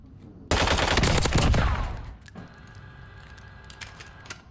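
Hemlock battle rifle gunfire in a shooter game: a sudden loud, dense volley of rapid shots lasting over a second, then a fading ringing tail with faint clicks and rattles afterward.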